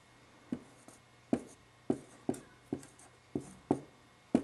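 Pen or pencil writing numbers on paper during a parallel-lines-and-angles maths lesson, heard as a series of about ten short, close scratchy strokes in an irregular rhythm, each a quick tap-and-scrape with quiet gaps between.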